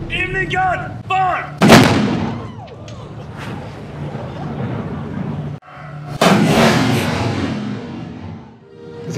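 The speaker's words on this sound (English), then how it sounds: "its guns have unfailingly heralded the passage of midday on a daily basis" Midday cannon firing at the Valletta saluting battery in Malta: two loud, booming blasts several seconds apart, each rolling out into a long echoing decay, with voices audible before the first shot.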